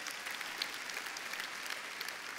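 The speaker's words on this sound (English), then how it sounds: "You should clap for that." Steady applause from a conference keynote audience, a dense wash of many hands clapping at once, continuous and fairly loud throughout.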